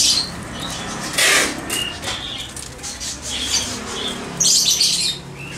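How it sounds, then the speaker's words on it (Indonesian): Oriental magpie-robins (kacer) caged for shipment at a bird shop in Medan give sharp squawks and chirps. Wings flap and flutter against the cages in loud, close bursts between the calls. "Inilah burung-burung kacer yang akan dikirim ke Aceh"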